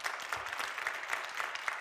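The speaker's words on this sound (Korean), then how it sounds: "우리 의료진, 간호사님들, 이 고마운 영웅들에게 한 박수 한번 합시다" A church congregation claps for medical staff and nurses, a soft, fairly distant patter of many hands with a few sharper individual claps standing out.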